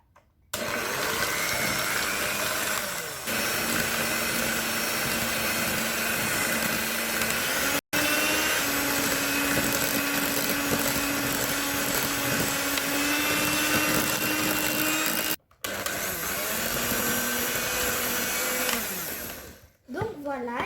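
An electric hand mixer whirs steadily at low speed through eggless tiramisu cream, a continuous motor drone with brief pauses as it is switched off and on.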